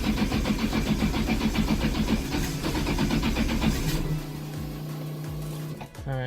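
Cold start of a Nissan RB26 engine fitted to an S14 with a single turbo: the electric fuel pump whirs, then the engine cranks in rapid rhythmic pulses, catches and settles into a rough, steady idle, loud and close, with a brief clatter near the end.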